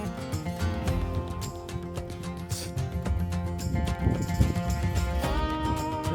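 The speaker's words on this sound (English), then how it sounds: "There's like 3 horses down there." Horses down in a windy hillside valley, with clip-clop hoof sounds and a possible whinny rising from a dense, continuous wash of wind and outdoor noise, steady throughout.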